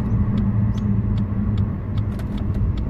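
A budget turbocharged Ford BA XT Falcon fitted with a shift kit drives along, giving a continuous low engine rumble and road drone with a few faint ticks and rattles scattered over the top.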